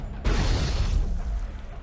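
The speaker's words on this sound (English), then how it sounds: "Explosions are happening." Explosions in the video game Mass Effect, set off by a thrown grenade during a fight to save colonists: a sudden deep boom bursts in after a brief pause, then rumbles on loudly with crackling debris that slowly fades.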